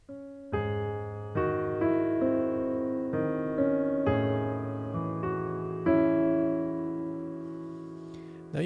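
A series of sustained piano chords from a piano cover of a song, each struck and left ringing, played slowly one after another with no voices.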